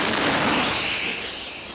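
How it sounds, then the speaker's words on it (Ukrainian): A burst of loud gunfire, broadband and sustained, fading slightly as it trails off with no voices. "Постріл!"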